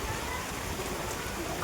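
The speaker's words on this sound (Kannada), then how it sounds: "ಮಳೆ ನೋಡಿ ಯಾವ ಥರ ಹೊಡಿತೈತೆ ಇವತ್ತು." Heavy rain pours down at a house construction site as a dense, even hiss of falling drops, with a voice over it.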